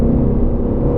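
A supercar engine at full throttle on the Silverstone race track, a loud, close, sustained whirring rumble that holds steady through one brief burst.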